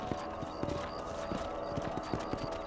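Horse hooves clip-clopping in the Red Dead Redemption 1 western video game, a steady run of hoofbeats with a brief whinny over ongoing game music and ambience.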